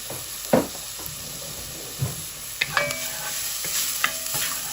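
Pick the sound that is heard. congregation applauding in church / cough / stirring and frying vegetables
stirring and frying vegetables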